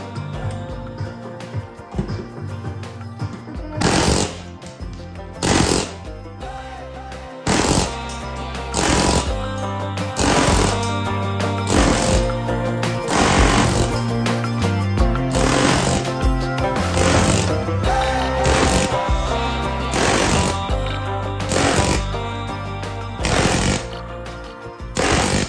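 An air tool hammers at rivets on a school bus body being converted, loud repeated bursts of rapid pounding separated by short pauses, close and harsh, with a steady background hum between bursts.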